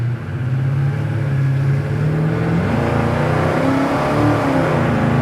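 A 1970 Chevy K10 pickup truck's engine, over 400 horsepower, revs hard and accelerates, its deep rumble climbing steadily in pitch and loudness, close by and continuous.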